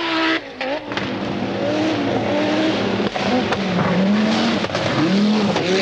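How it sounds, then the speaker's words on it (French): Peugeot 205 Turbo 16 and Audi Quattro rally cars at the 1985 Rally of New Zealand, engines roaring loudly and continuously with rising and falling pitch as they accelerate, close and sustained throughout. "Peugeot se mesure à Audi, à bord de la 205 Turbo 16, Harri Vatanen et Timo Salonen"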